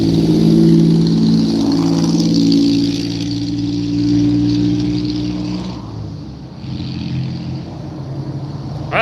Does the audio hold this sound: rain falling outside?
no